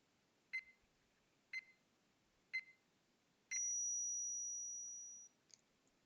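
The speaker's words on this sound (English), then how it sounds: "I heard the cold electronic beep of an ended call" The cold electronic tone of an ended phone call in the Chaos;Child video game: four short evenly spaced beeps, then one long steady tone that fades out, followed by a faint final blip, all quiet and alone.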